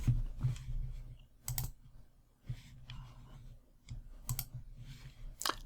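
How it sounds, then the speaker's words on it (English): Quiet clicking keystrokes on a computer keyboard come in short bursts with brief pauses, close and soft, as a post title is typed. "Type in your title."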